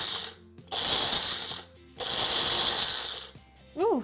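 Fennel and cumin seeds being ground to a medium grind in an electric spice grinder: two sustained, loud whirring bursts separated by a short pause, then a brief final pulse.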